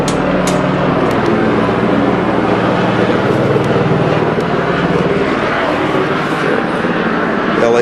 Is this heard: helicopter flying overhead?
yes